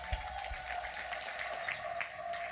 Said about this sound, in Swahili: Hebu nitumpigie makofi Mungu kwa ajili yake